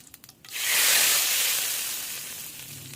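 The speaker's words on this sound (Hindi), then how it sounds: "साबुत लाल मिर्च और जीरे का तड़का लगाना है" A loud sizzle bursts in after a brief quiet moment and holds steady as a bright hiss, slowly fading, as cumin and whole dried red chilies hit hot oil for tempering dal.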